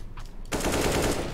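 Rapid burst of gunfire in Counter-Strike: Global Offensive, starting abruptly after a quiet moment and continuing as a loud, dense stream of shots.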